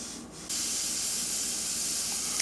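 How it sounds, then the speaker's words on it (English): Airbrush spraying paint as the trigger is pressed: after a brief quiet moment, a steady, bright hiss of air and paint starts abruptly and continues evenly, close by. "Every time you press the trigger, paint just comes out when the brush is working the way it's supposed to"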